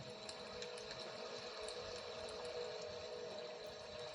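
Flowing water, heard as a continuous, even rush with a faint steady hum, unbroken and moderately quiet, with no voices.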